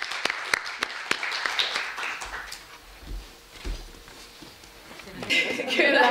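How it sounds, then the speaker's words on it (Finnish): At a Finnish union event, scattered individual claps ring out, then the applause fades into quieter room sound before clapping swells again at the close. Talk is mixed in. "meidän erinomaiset panelistit tarvii nyt aplodit"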